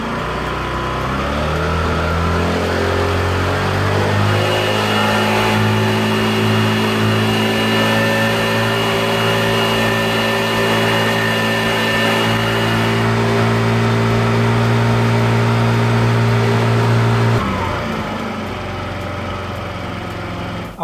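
A scooter engine is held at full throttle during charging-voltage measurements, a loud, steady, high-pitched buzzing drone that sustains evenly for most of the stretch before the revs drop off near the end.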